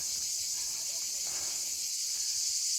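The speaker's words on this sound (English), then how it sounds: "surrounded by the loudest cicadas in history." Cicadas along a dry riverbed keep up a loud, continuous high buzzing drone, with faint rustles and footsteps beneath it.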